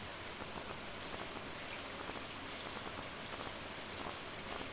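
Steady rain patters in the video game Stardew Valley, a continuous even hiss of drops on surfaces with no voices over it.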